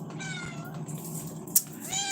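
A house cat meows several times in a row, the calls close and fairly loud indoors, ending with a sharp brief clatter.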